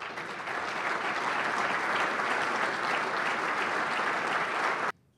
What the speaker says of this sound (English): please stand and give a big round of applause